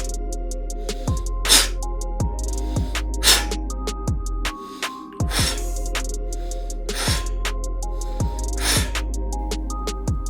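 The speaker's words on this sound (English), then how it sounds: "So the breath control will sound like this." Sharp, forceful Taekwon-Do exhalations come in a regular rhythm, roughly one every second or two, each a short noisy burst, with a steady electronic hum running underneath throughout.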